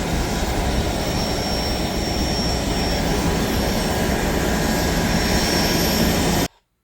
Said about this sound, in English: Here we have our plane for the day, this beautiful SA-227 Metroliner.